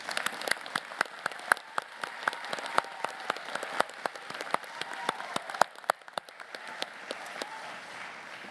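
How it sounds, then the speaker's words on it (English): Audience at a Massey University graduation ceremony in Manawatū applauds, a steady wash of many hands clapping for several seconds with sharp individual claps standing out, no speech over it. "Can we join again in a round of applause?"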